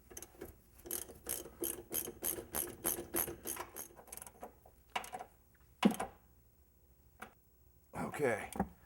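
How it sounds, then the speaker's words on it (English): Rear shock absorber fasteners on a car are tightened with a ratchet, giving a rapid, close series of clicking pawl strokes. A pause and a few clanks follow, with a brief voice near the end. "Now both fasteners can be tightened down tight."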